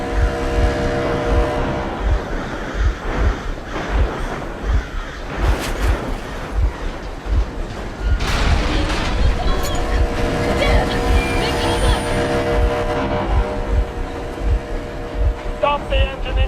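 A train engine runs in the video game Metro Exodus, a loud rumbling drone with rhythmic low thumps and a rising metallic whine, heard close and continuous for the whole stretch.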